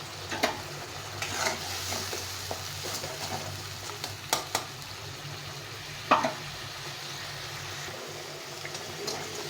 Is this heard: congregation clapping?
no